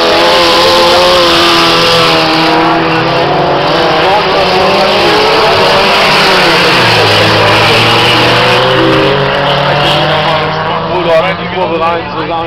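Stock cars racing at Basepohl in a 2016 60er heat roar loudly and continuously, engines revving and shifting pitch as they pass close by, with a commentator's voice running under the engine noise.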